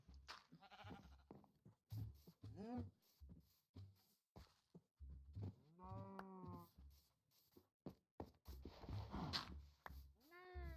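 Sheep in the Minecraft video game bleat again and again, a run of short, wavering calls spaced through a quiet background, with a few louder, longer bleats standing out.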